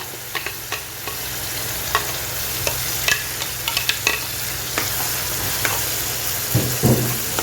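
Sizzling tomato sauce of blended tomatoes and garlic in an aluminium pan with repeated scraping stirs, a steady frying hiss underneath and periodic clinks of the utensil, close and fairly loud.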